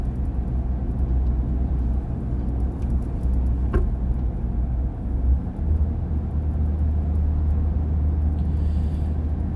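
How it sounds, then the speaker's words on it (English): A Southern Sanitation garbage truck drives along with a steady low engine rumble and road noise, a continuous drone throughout with one brief clank near the middle. "Southern Sanitation garbage truck."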